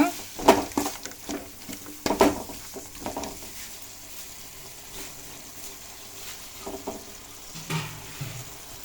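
Bitter gourd frying in a pan gives off a faint, steady sizzle, broken by a few sharp scraping knocks of a stirring utensil.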